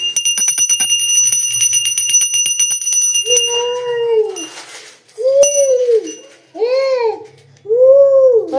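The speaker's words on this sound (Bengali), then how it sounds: "ঘন্টা বাজানো হয়েছে?" A small hand bell is rung in a home shrine with a quick series of bright metallic strikes that ring on, followed by a small child's babbling and other voices.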